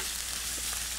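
Regular bacon sizzles in a pan for carbonara, a brief steady hiss of frying fat, close and uniform with no voices.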